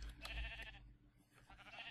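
Sheep bleating in the Minecraft video game, a few short synthetic bleats at moderate level with quiet in-game background and no talking.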